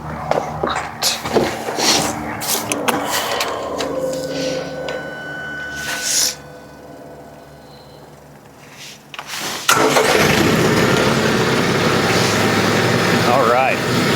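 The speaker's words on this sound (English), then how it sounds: "Why don't you go start the tractor for me?" A TYM T474 tractor's engine cranks and catches after a stretch of people talking and shuffling, then runs on as a loud, steady idle.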